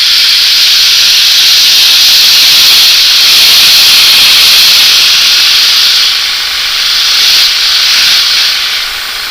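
Steady, loud airbrush hiss spraying thin paint continuously, a broad airy rush that swells slightly and dips briefly near the end, with no voices.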